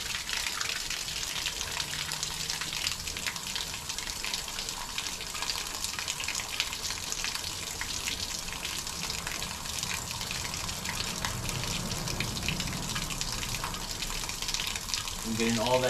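Steady rushing water from a hose flushing a 2006 Ram 1500 4.7L radiator runs continuously throughout, a broad hiss like a hose gushing, loud and close with no pauses.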